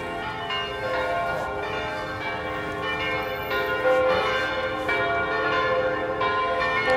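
Church bells ring for a funeral in a steady, continuous peal, with many overlapping tones sustained throughout and no voices.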